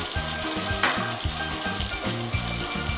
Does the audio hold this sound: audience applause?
no